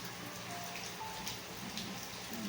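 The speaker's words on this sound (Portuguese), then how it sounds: "Não sei se você está ouvindo o barulho da chuva." Steady rain falls throughout, a continuous close hiss of drops with no voices present.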